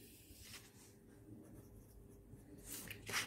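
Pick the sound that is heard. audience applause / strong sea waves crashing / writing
writing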